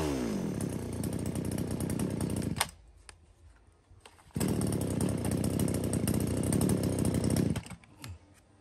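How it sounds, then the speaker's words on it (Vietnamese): A Shindenwa 1036 chainsaw engine runs loud and close, roaring steadily, dropping briefly to a low idle, then revving hard again before easing off near the end. "Một con máy cưa 1036."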